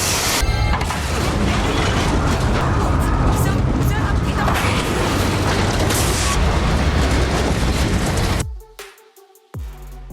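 A missile explosion in a movie roars as a loud, sustained blast and rumble of crashing debris for several seconds, then cuts to near silence with a few faint trailing sounds.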